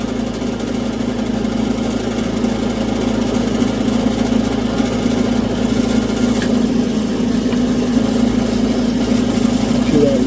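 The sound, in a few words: lapidary grinding wheel shaping heart cabochon bevel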